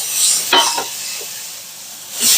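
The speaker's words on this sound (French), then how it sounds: "On va faire griller, on va faire dorer nos oignons." Onions browning in a pot for boeuf bourguignon, a soft steady sizzle with a couple of brief stirring scrapes and a clink of utensil against the pot.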